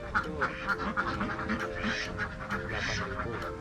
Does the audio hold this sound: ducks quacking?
yes